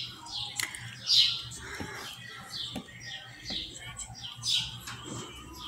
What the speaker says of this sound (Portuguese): vocês estão escutando os pássaros?